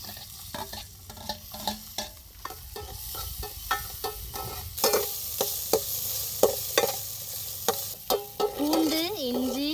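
Garlic, ginger and green chillies fry in a pan in a village kitchen, giving a continuous sizzle broken by sharp, rhythmic clicks and scrapes of a stirring spoon.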